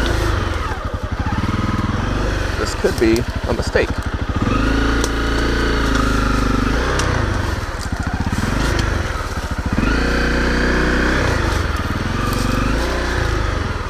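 A motorcycle rides along a narrow path skirting a deep puddle, its engine loud and close throughout, rising and falling with throttle changes, while a rider speaks briefly over it.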